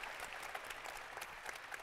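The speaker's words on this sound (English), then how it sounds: "How about a round of applause for these guys?" Steady applause from a conference audience for a panel of speakers, a dense patter of many hands clapping continuously at moderate distance with no talking over it.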